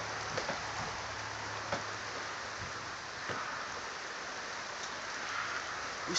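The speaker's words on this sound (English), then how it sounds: "downpour of rain is starting to come." A heavy downpour of rain during a thunderstorm in Yakima hisses steadily and evenly, with a few soft taps and faint low rumbles beneath the wash of water.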